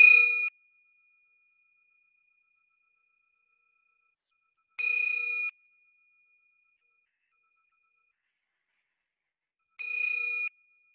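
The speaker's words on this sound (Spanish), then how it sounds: "El sonido de 3 campanadas indicará el momento en que la meditación inicia." Three clear meditation bell chimes ring at even intervals about five seconds apart, each a bright, sharp strike that rings on and slowly fades into silence.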